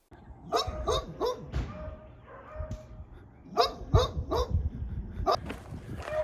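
Several dogs bark in sharp, repeated bursts, some close and loud, others farther off, with short pauses between volleys.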